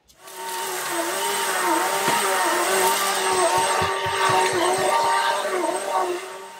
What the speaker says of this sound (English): We have to now vacuum and pick up the glass.